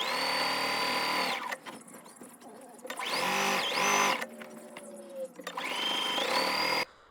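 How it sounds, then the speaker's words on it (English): A sewing machine runs a half-inch seam around the outside of a rag quilt in three loud, steady bursts of whirring stitching, separated by short pauses, with a faint voice in the quiet gap. "I just sew a 1/2-inch seam allowance all the way around the outside of this"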